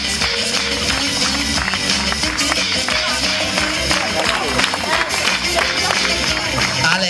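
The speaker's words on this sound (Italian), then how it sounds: "Signori, facciamogli un applauso al nostro Giacomo!" An audience claps for Giacomo, a child joke-teller, during a guest evening at the Blu Aria holiday village: a dense, steady applause that lasts the whole stretch, with sharp individual claps and some crowd noise and music underneath.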